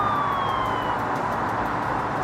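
Police car sirens wail in a car simulator video game, a steady continuous tone with slowly falling pitch sweeps over constant road and engine noise, loud and without speech.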